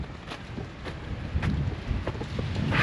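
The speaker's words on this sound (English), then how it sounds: "It's so windy." Strong wind buffets the microphone in rough, roaring gusts, loud and close, with no voices.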